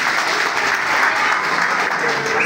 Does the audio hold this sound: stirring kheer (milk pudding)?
no